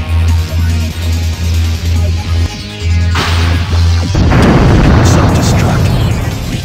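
A loud self-destruct explosion in the Sonic Heroes video game erupts as a deep, rumbling boom with crackling debris, following pounding game music and overlapping voices.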